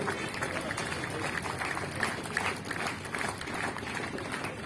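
Sustained applause from a large audience fills a 40th foundation day celebration of the All Nyishi Students Union, a steady dense clatter of clapping with a crowd murmur beneath it.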